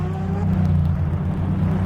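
Race cars leaving the pits on wet tyres in the rFactor 2 racing simulator, a loud steady engine drone with a rising whine as a car pulls away.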